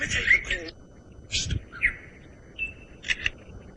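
A lyrebird mimics a kookaburra call with repeated bright chirping bursts and trills, heard outdoors at moderate distance alongside soft background noise.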